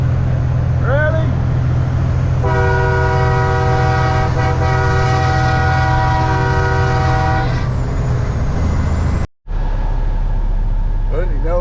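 A truck fitted with loud train horns blasts one long, steady multi-tone chord for about five seconds over a heavy engine rumble, close and dominant, before it cuts off and the engine drone continues.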